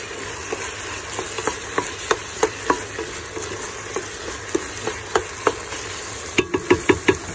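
Garlic and onion browning in a pan are stirred with a utensil, giving a steady quiet sizzle broken by irregular sharp scrapes and taps, with a quick burst of clacks near the end and no talking.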